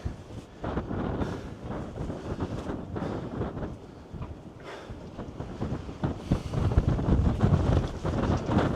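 Strong wind buffets the microphone in loud, uneven gusts at the old port of La Rochelle, France, with a faint sense of open water, boats and ropes battering in the background.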